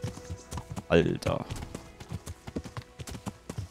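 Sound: horse hooves clip-clopping while riding in video game Kingdom Come: Deliverance

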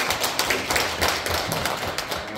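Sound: audience applauding

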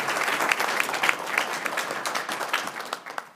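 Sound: audience applause for youth council members

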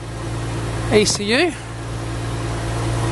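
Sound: car engine idling during engine tests

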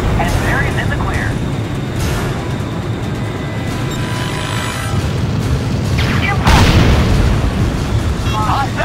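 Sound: explosion of destroyed target in Ace Combat: Joint Assault video game

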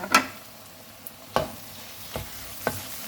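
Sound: stir-frying minced meat with garlic

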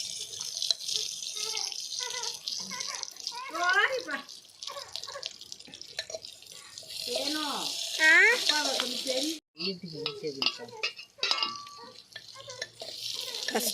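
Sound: onion frying in a tiny clay pot

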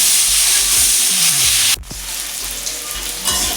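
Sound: vegetables frying in pan

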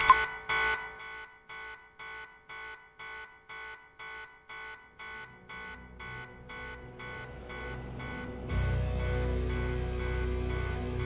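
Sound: video game alarm blaring

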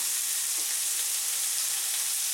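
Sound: stir-frying boiled eggs with sundried tomatoes in a pan

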